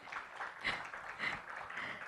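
Audience applause and cheering at a live event, a steady, moderately distant wash of clapping with soft swells that continues without pause.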